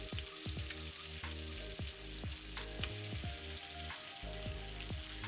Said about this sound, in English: This is just how I'm frying it.